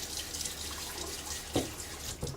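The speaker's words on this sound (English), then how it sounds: "All right, so splash my face a little bit." Running water from a bathroom tap flows steadily while water is splashed onto a face before a wet shave, with two brief, louder splashes near the end.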